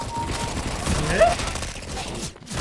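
Several rapid gunshots ring out in the game CS:GO, a burst of close shots against a busy game backdrop, with a voice talking underneath.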